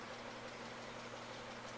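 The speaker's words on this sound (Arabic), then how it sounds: "يلا صوت السياره اظن اجا راضي" A car engine idles steadily at low volume as a car arrives, a continuous mid-pitched hum with a faint knocking texture and no talk over it.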